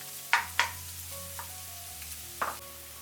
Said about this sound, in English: Fry the shallots for 5 minutes on low heat.